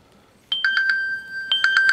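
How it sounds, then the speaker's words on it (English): A telephone ringing nearby in a quiet room, with two clear bursts of warbling electronic tones about a second apart. "phone's ringing, standby."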